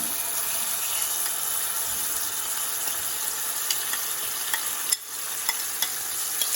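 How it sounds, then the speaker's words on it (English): Refried beans fry in a hot pan with a continuous bright sizzle, a few soft scraping stirs and one brief dip as the pan is worked, close and steady with no voices. "So I'm gonna add my beans in there."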